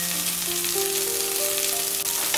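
Finely chopped carrot, beans and green peas with salt fry in a pan, a steady loud close sizzle over a continuous hiss with a faint tonal hum underneath.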